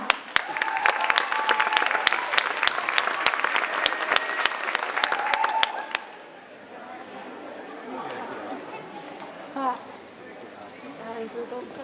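Applause from spectators at an Icelandic team gymnastics championship, a crowd clapping and cheering steadily for about six seconds before it stops abruptly, followed by a quieter hall with murmured chatter.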